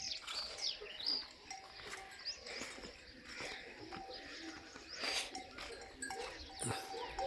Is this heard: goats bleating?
yes